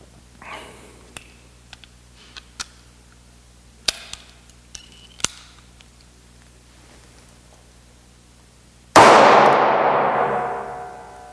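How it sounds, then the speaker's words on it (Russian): Light metallic clicks and taps, then one loud, sharp gunshot from a gas pistol firing a blank cartridge, followed by a long ringing echo that slowly fades. "сейчас мы будем производить выстрел из газового пистолета, но холостым патроном, естественно"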